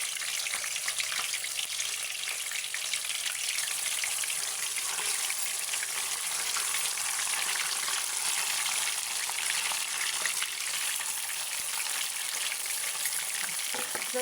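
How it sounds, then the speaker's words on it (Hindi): Fish pieces frying in hot oil in a pan on low heat for a restaurant-style fried fish dish, a steady close bright sizzle with fine crackle that continues unbroken. "तो इसमें मैं ये डालूँगी सारे पीस फ्राई कर लूँगी"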